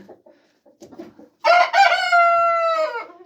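A rooster crows loudly and close by in one long call in a chicken coop, preceded by faint clucking and rustling.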